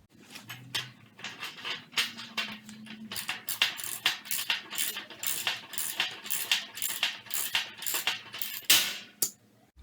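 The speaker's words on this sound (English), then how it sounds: "So now I'll go ahead and tighten these up with the 17mm socket." Ratchet with a 17mm socket tightening bolts while assembling a hitch-mounted folding cargo carrier, giving a steady run of close, sharp metallic clicks in quick bursts throughout, with no talking.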